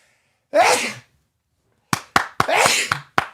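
One loud sneeze rings out near the start, followed by a burst of short, sharp laughs and quick breathy sounds.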